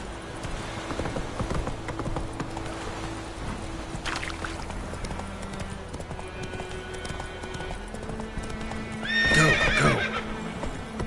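Roach the horse in The Witcher 3 clip-clops along at a quick, steady gait over a low rumbling ambience, then gives a loud whinny near the end.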